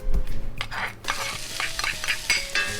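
Chopped onion goes into hot olive oil in a pan for paella, a close sizzle with bursts of stirring and utensil scrapes against the pan, alone without talk.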